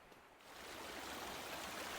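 A river flows steadily below a bank beside a remote trail campsite on the Northville-Placid Trail, a broad rushing wash that swells from quieter to a constant, moderately loud flow, with no voices.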